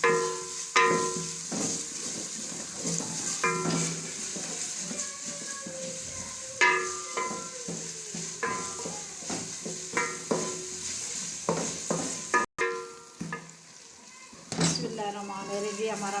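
Masala with whole coriander frying for aloo gosht, a soft sizzle under repeated stirring scrapes and clatter of a spoon in the pot, while a voice talks over it.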